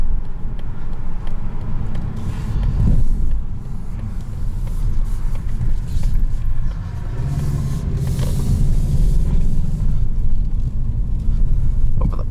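A 2021 Mazda3 Hatchback Carbon Edition Turbo rolls over road bumps, giving a steady, loud low rumble of road and cabin noise with a few dull thumps as the wheels hit the bumps.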